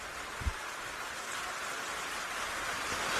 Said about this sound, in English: So the rain has picked up again.